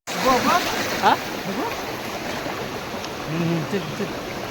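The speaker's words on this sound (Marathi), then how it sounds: "पाण्याचा प्रवाह बघा केवढा" Steady rushing of a flowing stream at night fills the background, with a few faint chirps and brief voices rising above it.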